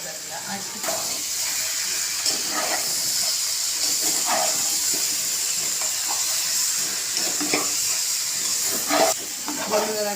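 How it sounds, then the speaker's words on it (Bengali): Potatoes sizzling in a pan as poppy seed paste is sautéed with them, a steady close hiss throughout with small bursts of spatter and stirring scrapes. "পোস্তটা এই কষানোর সময় দিই, মানে আলুটা কষানো হয়ে গেছে"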